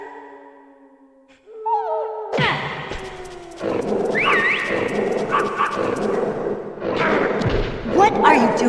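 In the 1998 video game Metal Gear Solid, a dog barks and yips in short bursts with whimpers, mixed with thuds and other in-game effects after a brief quiet opening.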